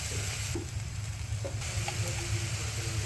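Spices with salt, turmeric, chilli powder and a splash of water sizzle steadily in a pan while being stirred for singi fish curry, a close, continuous frying hiss with occasional soft clicks, no talk.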